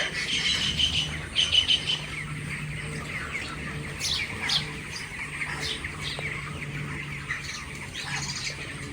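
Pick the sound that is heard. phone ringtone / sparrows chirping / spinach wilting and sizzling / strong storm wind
sparrows chirping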